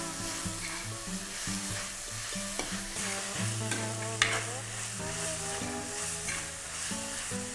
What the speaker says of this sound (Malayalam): നമ്മുടെ സവാളയും തക്കാളിയും വഴണ്ട് വരുന്നുണ്ട്